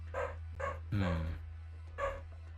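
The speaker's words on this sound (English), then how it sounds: "you can hear all dog barking from the streets" Several dogs bark in the street in short bursts, a few sharp barks spaced apart over a low steady hum, sounding moderately distant.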